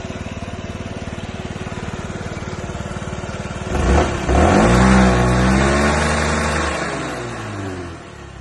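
A Yamaha Jog SA56 ZR fuel-injected scooter engine idling with a steady buzzing putter, then revving up loudly and holding a higher drone before easing back down, close by with no voices.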